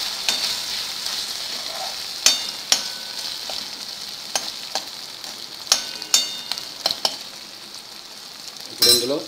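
Onions fry in a pan for a gherkin (dondakaya) masala curry, making a bright, steady sizzle that is punctuated by sharp spoon-on-pan clinks and scrapes, heard up close with no talking.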